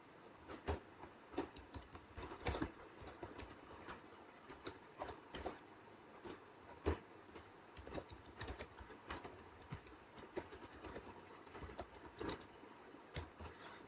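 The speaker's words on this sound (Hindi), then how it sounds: "ये थोड़ी सी मैं फास्ट टाइपिंग करता हूँ तो मिस्टेक्स भी काफ़ी होती हैं" Fast typing on a computer keyboard while writing C++ code, a steady stream of quick, irregular clicks and taps with occasional louder keystrokes, fairly soft and close, with no talking.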